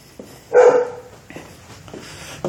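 A dog lets out one loud, close bark, followed by a few fainter yips and whimpers nearby.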